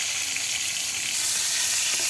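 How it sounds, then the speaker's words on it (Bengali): Spiced fish fries in hot oil while the oil is swirled around the pieces in a karahi, giving an unbroken, loud, close sizzle that swells slightly toward the end. "কড়াইয়া থেকে তেলগুলো ঘুরিয়ে ঘুরিয়ে দিচ্ছে, মাছের চারদিকে যাতে তেল লাগে।"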